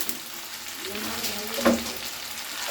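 Cut potatoes hiss and sizzle in hot spiced paste in a pan while cooking a Bengali hilsa curry with brinjal. The frying stays faint and steady, with a brief louder stir clatter partway through.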